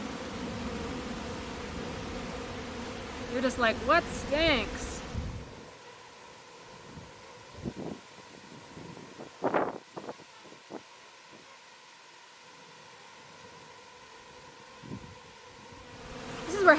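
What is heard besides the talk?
honey bees buzzing around a hive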